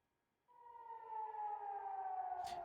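A lone air raid siren over southern Israel winds up and holds a steady, slightly falling wail, loud and sustained, as projectiles approach, with a brief burst of noise near the end.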